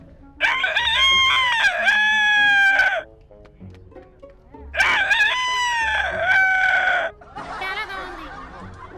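A voice imitates a rooster crowing, two long loud drawn-out crows separated by a short pause, followed by a briefer, rougher vocal call.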